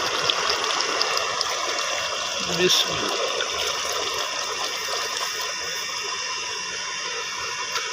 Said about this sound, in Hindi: तो अभी इसमें हम शामिल करेंगे 1 गिलास पानी का।